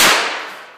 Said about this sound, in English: this is one of the fireworks that we lit off in the backyard here several years ago